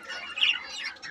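Cockatiels in a home bird house give a short flurry of sharp, bright chirps and squawks, fairly faint, with one louder call near the middle.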